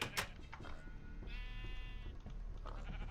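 A sheep bleats once in a long wavering call in the Terrafirmapunk modded game, heard among clicks, footsteps and other game noises.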